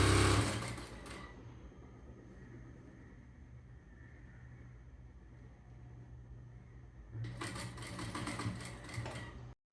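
A sewing machine stitches the fold of straight pants, running loud and fast at first, then dropping to a quieter steady hum before speeding up and running loud again near the end.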